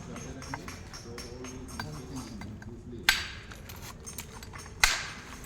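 Antler hammer striking flint while knapping a bifacial stone tool, giving two sharp, bright clicks about two seconds apart over a steady low background murmur.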